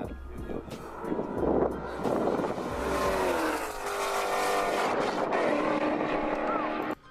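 An S550 Roush Mustang races another car, engine noise sustained and loud throughout with rising and falling tonal sweeps as the motors rev and shift, heard from inside or near the cars.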